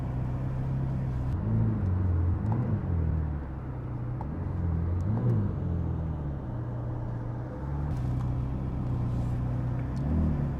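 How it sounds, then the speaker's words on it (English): The 720-horsepower flat-plane V8 of a Mercedes-AMG GT Black Series rumbles steadily at low revs as the car pulls away, with a few gentle rises in engine pitch, close and continuous. "now the engine is active, the car has started by pulling the button, and I will put it into drive"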